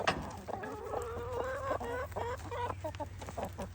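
A blind chicken clucks in a quick, repeated rhythm, fairly close but quiet, over a low steady background hum with no talking.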